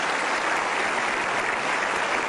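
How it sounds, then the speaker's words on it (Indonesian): An audience claps steadily in a hall at a talk event, a dense even burst of applause sustained for about two seconds with no talking over it. "kita berikan aplaus"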